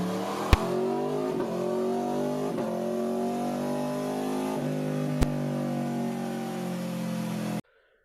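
A 1000cc Aprilia superbike engine revs steadily and fairly close, with its pitch climbing and easing in long smooth sweeps. Two sharp clicks break through before it cuts off suddenly.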